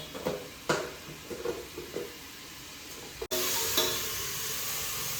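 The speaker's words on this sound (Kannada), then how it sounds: "ನೋಡಿ ಫ್ರೆಂಡ್ಸ್, ಚೆನ್ನಾಗೆ ಫ್ರೈ ಆಗಬೇಕು" Chicken for biryani frying in oil in a pan, hissing steadily with occasional stirring scrapes, then surging into a louder, denser sizzle partway through; no talking.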